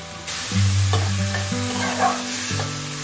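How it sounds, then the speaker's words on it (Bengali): A splash of water added to spice masala frying in a pan, producing a steady sizzle with scraping stirring strokes and a faint tonal hum underneath, with no voices. "সামান্য একটু জল অ্যাড করে দিচ্ছি যাতে মশলাটা পুড়ে না যায়"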